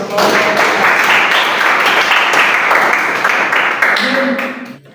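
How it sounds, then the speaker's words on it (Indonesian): Steady applause from a classroom audience, a dense wash of clapping that holds for several seconds before fading out at the end. "Tepuk tangan dulu"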